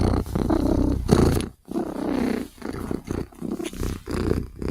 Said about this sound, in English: Cat is purring.